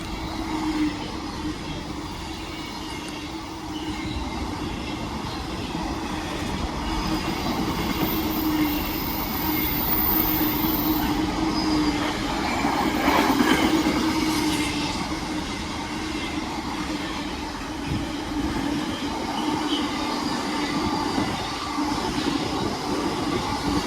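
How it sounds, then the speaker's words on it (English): A DB Class 66 diesel locomotive, 66125, hauls a freight train past on the line from Trafford Park, a sustained rumble of wagons and wheels with a brief squeal midway, fairly distant and steady. "here's a passing freight train from Trafford Park to Sutton, DB. 66125."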